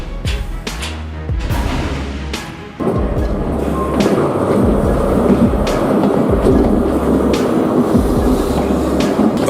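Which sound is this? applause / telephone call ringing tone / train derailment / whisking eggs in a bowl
train derailment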